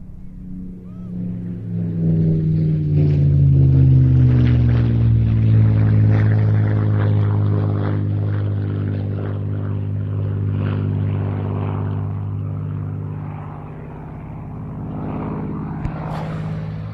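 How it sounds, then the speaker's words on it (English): A Spitfire PR11 makes its final flypast at an air show, its propeller engine a loud, droning roar that swells as it nears, shifts in pitch as it passes, then slowly fades into the distance. "So, final pass from the Spitfire PR11."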